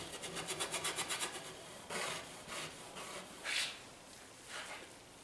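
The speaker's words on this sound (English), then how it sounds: "I'm using the side of my brush, not the end of my brush, and kind of scraping it on here a little bit." Side of a paintbrush scraping across a canvas during landscape painting, a rapid series of short rough strokes followed by slower separate scrapes, close and dry with no talk.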